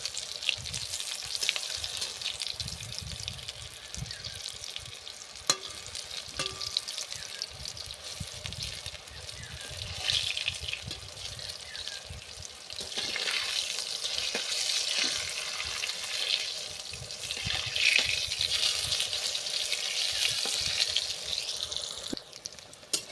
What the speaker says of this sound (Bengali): বেগুন আমার ভাজা হয়ে গেছে।